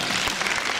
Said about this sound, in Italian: lei che ride sempre, applauda, si faccia sentire come Club